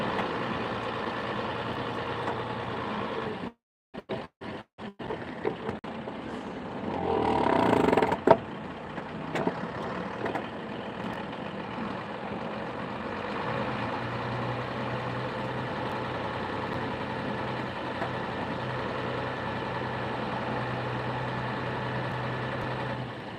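A steady engine drone from a vehicle being driven, continuous and fairly loud, with a short dropout and a few clicks early on, then a brief rise in road rumble before it settles back to an even hum.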